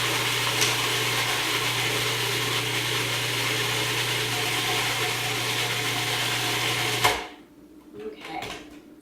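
A blender whirs steadily as it purees cilantro pesto for a plant-based meal, a loud continuous motor drone for about seven seconds before it cuts off abruptly, leaving only faint rattling afterward.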